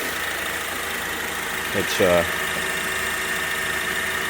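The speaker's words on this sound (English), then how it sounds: "decent sounding engine. It's healthy." A 2009 Honda Accord EX-L sedan idles with a steady, even engine hum that holds unchanged throughout, and someone speaks briefly over it partway through.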